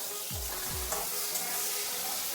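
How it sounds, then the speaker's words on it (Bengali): Chopped onion, garlic and green chili frying in oil for a village-style Bengali potato-bori curry, a steady broadband sizzle throughout with a couple of low thumps early on and no talking. "একটু ভালো করে ভেজে নেব"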